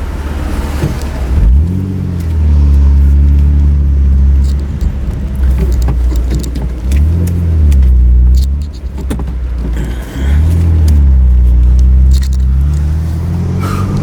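Steady, loud road traffic with a gas truck nearby, its engine droning and rising and falling in pitch as vehicles pass close by, with no one speaking.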